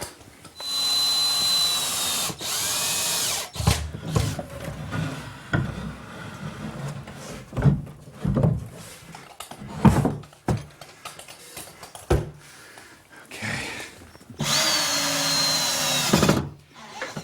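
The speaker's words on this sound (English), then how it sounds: "Now I'll secure it with a few screws." A power drill drives screws to fix a cabinet to the wall, with several short whirring bursts at close range, the first and last long and steady, and clunks and handling noise between them.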